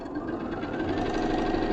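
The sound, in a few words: sewing machine stitching quilt block pieces together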